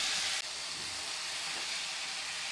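Tomatoes frying in a pan for a tomato paneer palya, a steady bright sizzling hiss that carries on without a break, close and fairly loud.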